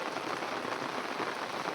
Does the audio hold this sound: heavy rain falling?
yes